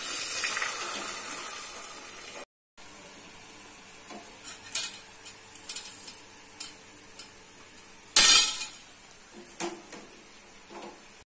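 Fried gulab jamuns are dropped into sugar syrup in a kitchen, giving a few clinks and taps of a spoon against a pan, one sharp clatter near the end, and a brief sizzle at the start.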